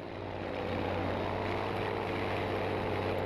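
A steady droning propeller plane engine in Battlefield V, a constant close hum with a low throbbing tone and no talk over it.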